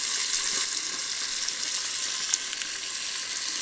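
Food browning in a frying pan gives off a dense, even hiss of sizzling fat, steady and close, with a faint tick or two and no speech.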